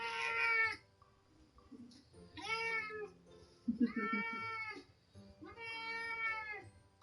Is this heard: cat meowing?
yes